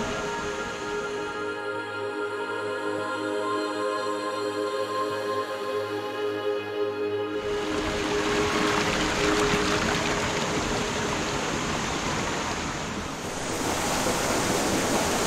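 A waterfall at the White Palace in Marghzar, Swat, flows in a steady rushing wash; a tonal hum fades out partway as the water noise swells fuller and louder, continuing without talk.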